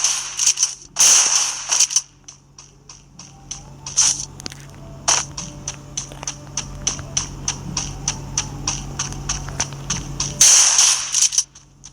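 Sharp gunshot cracks from the Free Fire mobile game, a loud opening burst followed by a rapid string of crisp shots with a steady low hum underneath and another loud burst near the end, with no talking.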